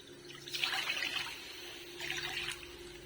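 Two cups of water poured into a wok while making Odia suji kakara pitha, a soft splashing trickle in two short bursts, the second fainter, with a low steady hum underneath and no talk.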